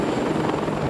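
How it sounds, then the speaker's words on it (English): HM-14 Sea Dragon mine-hunting helicopter, a loud, close, continuous roar of rotor and engine filling a brief moment with dense pulsing throb. "The brute power of HM-14 Sea Dragons, this purpose-built mine-hunting helicopter"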